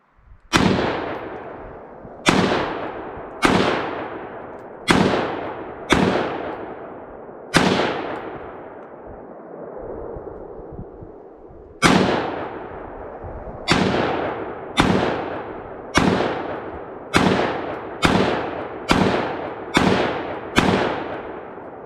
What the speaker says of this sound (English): we had him shoot a few rounds on camera